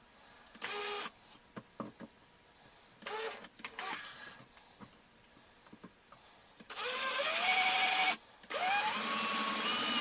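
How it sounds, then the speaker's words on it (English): Power drill boring into the canopy of a Ziroli AT-6 Texan model aircraft, short whirring bursts that stop and start, then longer sustained drilling with rising motor pitch, close and fairly loud. "And I just broke my drill bit."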